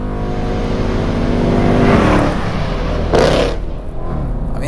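Mercedes C63 AMG 507 Edition V8 accelerating hard, a loud, close engine roar rising in pitch through a long pull, then dipping briefly at a gear change and climbing again.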